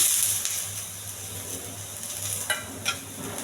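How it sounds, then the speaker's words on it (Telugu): Chana dal, dry red chillies, curry leaves, green chillies and ginger fry in oil with a steady sizzle, broken by a couple of sharp stirring scrapes, with no talk. "ఇవన్నీ బాగా వేగించాలి"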